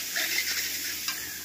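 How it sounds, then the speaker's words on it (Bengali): Cumin, dried red chilli and coriander powders fry in a pan while being stirred, producing a steady hiss with soft scraping strokes and one brief tap. "মশলাটাকে কষে নেব"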